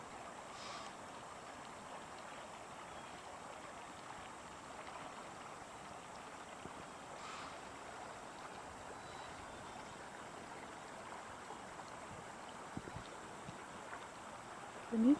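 Steady, soft rush of White Mud Creek flowing on a cold spring day, constant and even throughout, with faint outdoor ambience and a small knock near the end.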